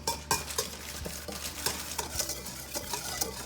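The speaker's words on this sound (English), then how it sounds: "so now we're gonna just whisk these together" Donut ingredients are whisked together in a bowl, a quiet rapid series of clicking, tapping strokes against the sides, close up with no talking.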